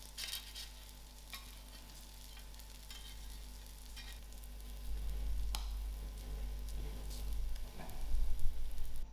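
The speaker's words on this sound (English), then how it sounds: "My haloumi is grilled and I'm just going to remove them from the plancha" Haloumi slices sizzle on a hot plancha grill, a steady close crackling hiss with a few sharp metallic clinks and scrapes as the pieces are moved, growing slightly louder toward the end.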